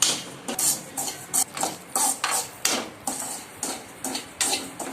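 Semolina (rava) dry-roasting in a pan for kesari, stirred with a utensil that scrapes and clinks against the pan in a steady rhythm of about three strokes per second, close and clear with no talk.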